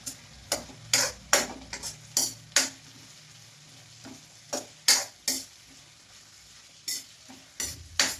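Vegetables for pulao are stirred in a pan, and a spoon scrapes in a quick uneven rhythm of about a dozen sharp strokes over a low sizzle, close up and with no voices.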